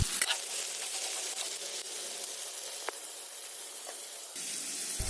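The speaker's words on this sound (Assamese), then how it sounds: "এতিয়া দি দিছো এয়া পচলাখিনি আৰু গোটেইখিনি ভালদৰে মিহলি কৰি অলপ সময় এনেদৰে আমি ভাজি থাকিম" Chopped banana stem frying with spices in a pan, a continuous close sizzling hiss that holds steady throughout with a few faint clicks.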